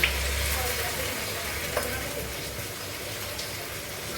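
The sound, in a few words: frying and stirring polao rice with onions in oil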